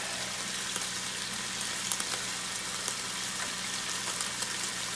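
Beef chunks browning in hot oil in a pot for Irish Guinness stew, a steady dense sizzle with faint crackles and occasional small pops throughout.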